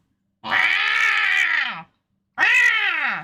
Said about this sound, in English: We're back to cat noises.